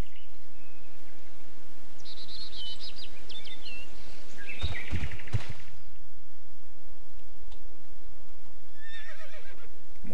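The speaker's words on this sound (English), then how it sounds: "More donkeys." Donkeys braying in the video game Civilization IV, a raspy animal call rising over steady outdoor ambience with birds and faint hoof-like clatter in the background, no talking.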